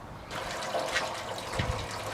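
Coolant drains from the opened drain tap of a Peugeot 406 coupé 2-litre engine into a tray below, a steady trickling, splashing stream of liquid heard fairly close and quiet.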